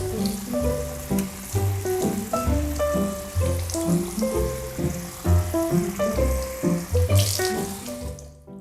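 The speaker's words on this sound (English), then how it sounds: "take your work to the sink and rinse it until there is no more soapy water" Tap water runs into a sink while wet felted wool is rinsed under it, an irregular splashing and gurgling close by, with shifting swishes as the wool is worked under the stream.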